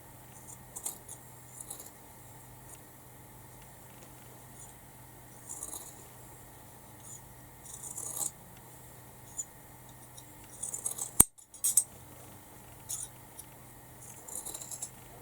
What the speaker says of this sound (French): Je coupe tout autour pour que ça soit régulier et propre.